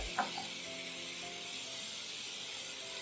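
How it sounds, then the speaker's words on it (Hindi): Chicken pieces fry in a pan with a soft, continuous sizzle and hiss, fairly quiet and close, with a brief clatter near the start and no talking. "चिकन को फ्राई कर लेंगे तब तक फ्राई करेंगे जब तक इसका कलर ना चेंज हो जाए"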